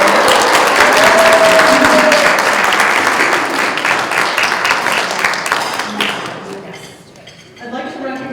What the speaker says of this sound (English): I'd like all of our new members and guests to please stand so we can give you a warm quarter 9 DFF round of applause.